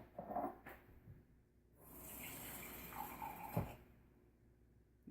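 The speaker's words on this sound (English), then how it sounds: "put water in my pot right here." Water runs from a tap into a cooking pot for rice, a steady splashing pour of a couple of seconds between quieter handling sounds, fairly close and faint.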